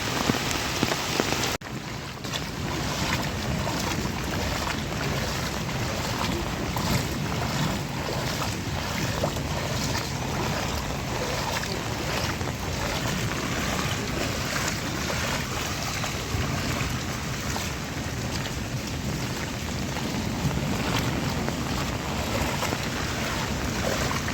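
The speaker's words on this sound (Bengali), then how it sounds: "এখন বৃষ্টি কিছুটা হালকা হয়ে আসছে" Steady rain, easing off, keeps falling on surfaces with a soft wind-like wash underneath, continuous and even with no voices.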